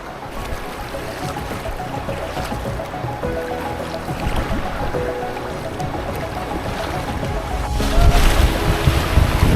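A canoe takes big-wave whitewater rapids on the Miramichi River: a continuous loud roar of rushing water with wind noise, swelling louder toward the end as the boat hits the waves.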